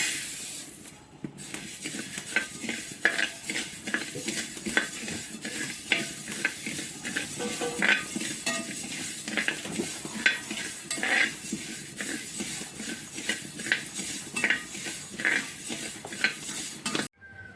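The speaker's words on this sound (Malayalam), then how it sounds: "നമ്മുടെ ഉരുളി നന്നായി ചൂടായിട്ടുണ്ട് നമുക്ക് മല്ലി ഇട്ട് കൊടുക്കാം" Coriander seeds rattle and scrape in a hot pan as they are dry-roasted and stirred, with repeated spoon clinks against metal; no talking.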